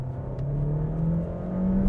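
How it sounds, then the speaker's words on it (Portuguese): A 2018 Mercedes A-Class four-cylinder engine with automatic gearbox hums and rises steadily in pitch as it accelerates, a smooth low drone heard from inside the vehicle. "O som do motor não é provavelmente o som mais entusiasmante do mundo"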